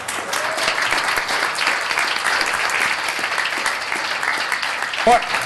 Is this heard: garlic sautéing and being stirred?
no